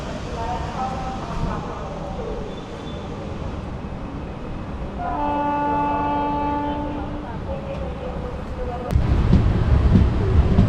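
A fast Chennai Central to Calicut express train rumbles along near Avadi station, its horn sounding a long sustained blast midway, with a louder burst of rushing noise near the end and someone talking over it.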